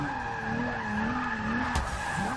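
A Rolls Royce in Forza 6 slides with the e-brake pulled, its tires letting out a long, sustained squeal over the droning engine, ending in a sharp knock near the end.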